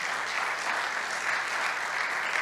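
Strong congregational applause at a Hanukkah-themed church service, dense sustained clapping from a crowd, loud and continuous with no break.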